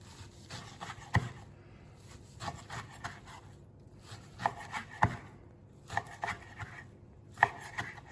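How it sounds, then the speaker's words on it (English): A knife chops smoked salmon and spinach on a cutting board, with repeated clusters of sharp knocks and slicing scrapes coming in bursts about a second apart, close and fairly loud. "Now we're just going to come along here like this and chop it up just a little bit more."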